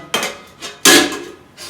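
Pots and utensils clatter as someone rummages through a kitchen, with several separate metallic clanks, one louder burst near the middle, heard alone without speech.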